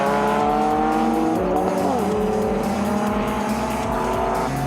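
Historic race cars, including a VW Golf, a Scirocco and a Chevron B19, roaring past at a motor race, engines loud and continuous with a gear-change pitch drop and some tyre squeal.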